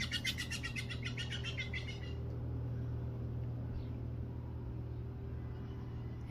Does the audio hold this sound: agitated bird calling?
yes